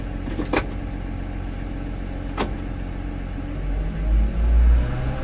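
John Deere 750K dozer engine running steadily at low idle, a close, even diesel rumble with a couple of brief clanks and a heavier low surge near the end, no talk.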